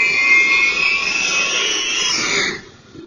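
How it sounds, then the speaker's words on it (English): An Ilyushin 76 jet transport of the Ukrainian Air Force roars past low overhead, a loud, close jet engine rush with a high whine that holds steady and then fades away quickly. "An airplane just flies by right beside you."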